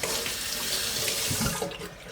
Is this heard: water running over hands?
yes